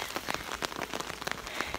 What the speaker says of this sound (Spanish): Y otra vez ha empezado a llover.